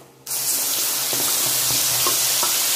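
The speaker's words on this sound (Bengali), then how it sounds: "এর মধ্যে ভালো করে একটু ভাজা ভাজা করে নেব।" Spice paste hits hot oil with cumin for a chana dal dhoka, bursting into a loud, steady sizzle after a brief quiet start, with faint stirring clicks running through.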